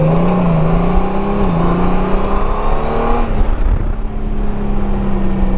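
2021 Honda Goldwing DCT motorcycle pulls away and accelerates, its engine note rising steadily, then dropping briefly at a gear change before climbing again, heard close from the rider's position with wind rush and no talk.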